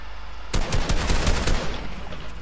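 Bursts of rapid SMG fire spraying in a PUBG match, a dense volley of close shots starting abruptly and rattling on for about a second before fading into quieter game ambience.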